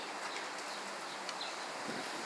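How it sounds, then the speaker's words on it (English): Birds calling outdoors on a city street in Providence, Rhode Island, likely pigeons or doves, faint and scattered chirps over steady wind and outdoor ambience with no talking. "Look at all those birds that James bravely walked towards."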